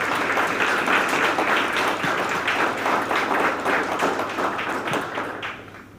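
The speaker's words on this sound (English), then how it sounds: "can we please give her a round of applause?" A room full of people gives a steady round of applause at a business council fireside chat, dense clapping holding evenly for several seconds before tapering off at the end.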